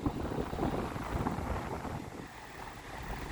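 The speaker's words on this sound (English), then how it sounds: "I hope the wind noise isn't too bad." Gusty wind buffets the microphone at a windy beach lookout, a steady close rumble and roar that swells and eases without any talk.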